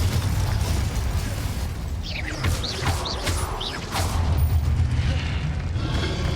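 Spell blasts and magical effects boom and burst from the Hogwarts Legacy video game over a steady low rumble, with several swooping whooshes and impacts in the middle.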